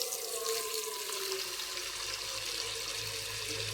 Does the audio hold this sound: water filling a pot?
yes